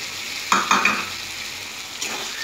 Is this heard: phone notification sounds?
no